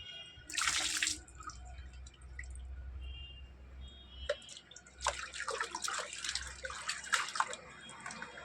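Water splashes and drips while a child is bathed, irregular sloshing bursts and trickles up close, with a short loud splash early and a busier stretch of splashing later.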